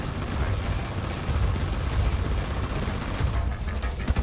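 Rapid turret gunfire from the video game The Division 2 rattles in dense, continuous bursts, loud and close, mixed with game effects while a player talks.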